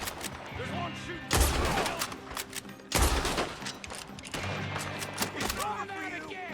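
Gunfire during a Red Dead Redemption 2 campaign shootout: loud, sharp shots recurring several times, each booming with a low thud, amid ongoing game noise and intermittent chatter.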